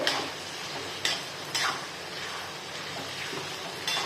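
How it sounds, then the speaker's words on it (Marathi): A large batch of onions and capsicum sautés in a pan for pav bhaji, a soft steady sizzle with occasional scrapes and clinks of a spatula stirring, close and fairly quiet. "हे छान असं परतू द्यायचं आपल्याला."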